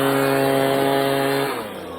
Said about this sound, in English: Leaf blower, baby.